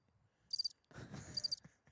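Cricket chirps play as a sound effect after a podcast quip, two short bursts of high, rapid trills, with a faint low rumble and small knocks between and after them.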